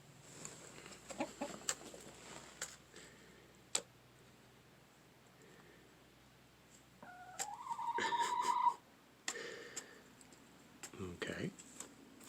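Hungry backyard chickens peck at a plate of plants indoors in winter, with scattered soft ticks and pecks, brief clucks and a short louder squawk, fairly faint and close, with occasional quiet talk.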